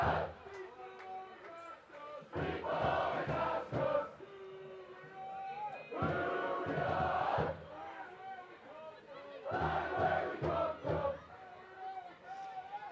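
Football supporters in a stadium chant and cheer in surging waves at the start of the second half, with a drum beating along underneath, the crowd swelling and easing in three loud bursts at a distance.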